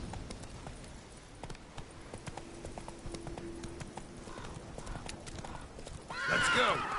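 Roach the horse trotting in The Witcher 3, hooves clip-clopping in a steady rhythm with a loud whinny near the end, while a voice talks over it.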